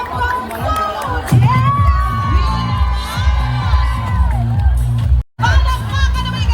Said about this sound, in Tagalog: palakpakan natin ang Global Alliance Hong Kong Food!